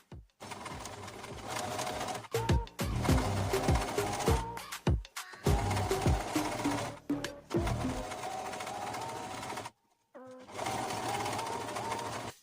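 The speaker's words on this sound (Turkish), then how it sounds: "Ve tam ütü çizgisinden bir yeme dikiş atacağım." A sewing machine stitches bias binding along a pressed fold line, running in loud steady mechanical bursts with short pauses and one longer stop, close by.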